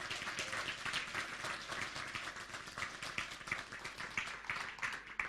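An audience at a talk on frequency specific microcurrent gives a round of applause, many hands clapping in a quick, dense patter that holds steady for several seconds without voices.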